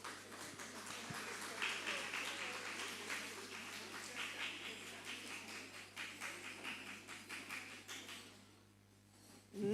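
Scattered, fairly quiet audience clapping for panelists at a youth symposium, an uneven patter of hands that thins out and fades near the end.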